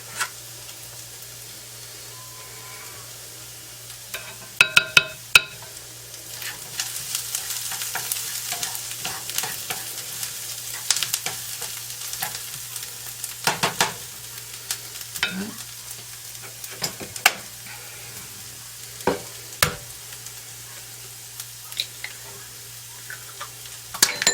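Slow cooker dressing ingredients are stirred together in a bowl, with soft scraping and mixing sounds and scattered sharp clicks and knocks of a utensil against the bowl, close and fairly quiet.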